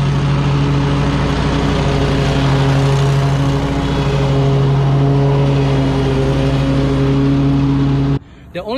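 A DEWALT X548 stand-on lawn mower's gas engine runs with a loud, steady, close droning hum for about eight seconds, then cuts off abruptly near the end.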